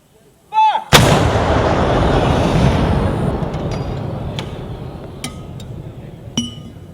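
A single loud Army National Guard artillery gun shot on an infantry brigade's annual training range, a sharp blast followed by a long rolling rumble that fades over several seconds, with a few faint metallic clinks afterward.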